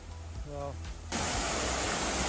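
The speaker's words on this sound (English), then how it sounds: "the shack was beside a waterfall" Rushing water from a waterfall beside a shack in Idukki, a broad, steady roar that abruptly swells louder partway through and continues unbroken; a voice briefly sounds over the quieter opening.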